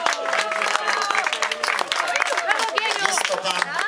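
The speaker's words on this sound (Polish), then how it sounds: "brawa za wytrwałość" Steady crowd applause greets a late runner crossing the finish line of a 10 km forest race, dense clapping lasting throughout with a voice speaking over it.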